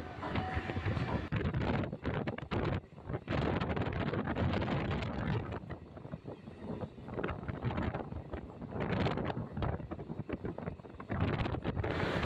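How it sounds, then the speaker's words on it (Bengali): Steady, loud rumble of a passenger train running on the line between Dankuni and Bardhaman Junction, heard from on board with continuous wind-like rushing noise and clattering throughout. "আর আমাদের ট্রেন পাশের লাইন দিয়ে ছুটে চলেছে।"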